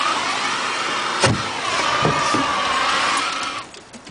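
Homemade gas-powered ball thrower runs with a loud, steady buzzing engine drone, punctuated by a couple of sharp thumps, before winding down at the end.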